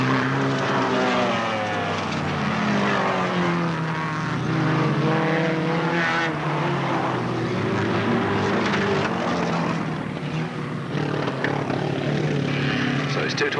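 Hot rod race cars roar around Alwalton Raceway in 1983, with loud engine notes rising and falling as cars pass, under continuous commentary.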